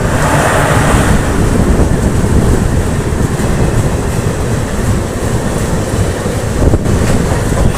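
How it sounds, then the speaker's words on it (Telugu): The Mumbai–Chandigarh superfast express train rumbles loudly and continuously, with a heavy low roar and steady rattling, heard up close with no talking. "మనం ఇప్పుడు ముందుకు మన రైలు కొనసాగుతుంది"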